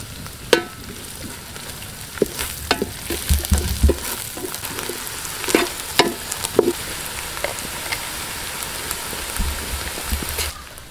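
Onions frying with masala in a pan while cooking clams, a steady sizzle with scattered stirring clinks and pops, close and fairly quiet, with no talk.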